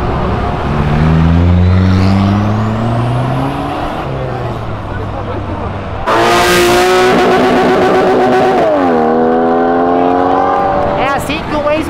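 A Ford Mustang accelerates hard on a road, its engine note climbing loud and close through rising gear pulls, with a second surge and strong revving mid-way, while people talk over it.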